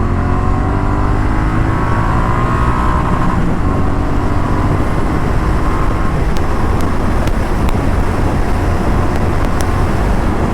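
A Triumph Street Twin motorcycle accelerates hard along an empty highway, engine note climbing steadily under loud, constant wind roar, with no voices.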